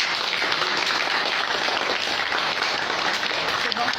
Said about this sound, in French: un grand bravo et un grand félicitations à l'auteur, justement, Khadija Bouka. Applaudissez-la tous.